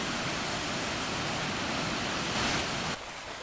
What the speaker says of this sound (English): beautiful little tumbling stream that's creating that waterfall out on the cliff. And the sound of it is absolutely gorgeous